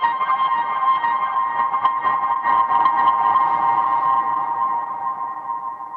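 A synth sample run through a Chroma Console with distortion, compression and filtering gives a steady, dense, buzzy drone with flickering texture that holds at an even loudness for about six seconds, fading slightly at the end.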